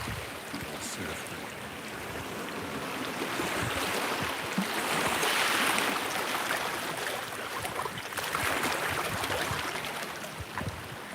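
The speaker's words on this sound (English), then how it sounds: "Set you guys up here for a minute and you can enjoy the" Steady broadband wash of ocean surf rolling onto a beach at Kamakura, Japan, near Morito Shrine, swelling louder in two broad surges without voices.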